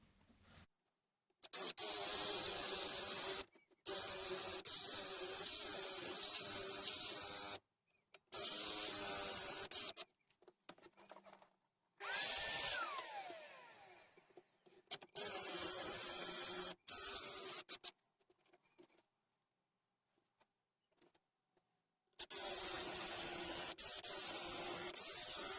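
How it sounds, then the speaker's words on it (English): A 10mm spade bit drills all the way through in repeated loud, steady bursts separated by abrupt pauses and near silence. "now I'm going to drill with a 10mm spade bit all the way through"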